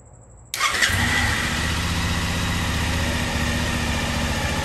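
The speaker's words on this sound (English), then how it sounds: "Let's go ahead and try and start this motorcycle" A motorcycle engine cranks and catches after a brief quiet moment, then settles into a steady, loud idle that rumbles on close by.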